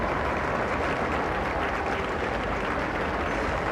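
At Royal Ascot racecourse, a crowd applauds continuously as the Queen passes, a broad, even roar of clapping and outdoor crowd noise with no pauses.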